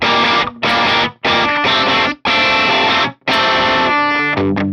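Electric guitar through a Victory Copper amp capture at its hairiest, most distorted setting: loud, thick chords strummed in several bursts with brief gaps, ending on a few sustained notes, no talking.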